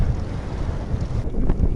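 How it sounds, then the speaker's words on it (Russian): Strong wind buffets a microphone at a campsite in a gusty, roaring rush that stays loud and close throughout, with no voices. "Потому что вот ветер опять начал бушевать."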